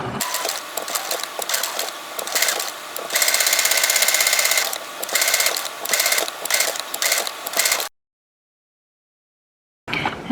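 A sewing machine stitching patchwork quilt fabric with interfacing, a close rapid mechanical whir in short bursts with brief pauses as it pivots a few stitches at a time, then silence and a short restart.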